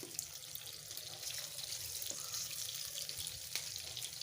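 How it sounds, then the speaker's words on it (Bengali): Eggs sizzling in hot oil in a frying pan, giving a steady, close hiss of crackling fat that runs evenly throughout with no voices. "তেলটা গরম হয়ে গেছে, এখন দিয়ে দিব ডিমগুলোকে।"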